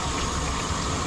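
Water streams steadily over a Pomeranian's thick coat during a bath, a close, continuous gushing rinse from a nozzle.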